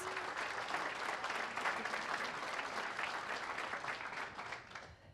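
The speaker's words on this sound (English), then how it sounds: "So a round of applause for you guys" Applause from a sales meeting audience, a dense steady patter of many hands clapping at moderate distance, holding evenly for about five seconds before tapering slightly at the end.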